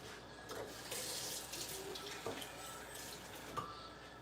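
Tap water running into a cooking pot in a home kitchen, a soft continuous splashing hiss with small gurgles and clinks, fairly quiet and with no talking.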